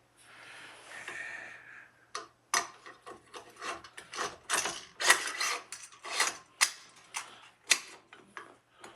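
Charging handle and bolt carrier slid into an AR rifle being assembled from parts: a brief rubbing scrape, then a run of crisp metallic clicks and rattles close by, with no talk.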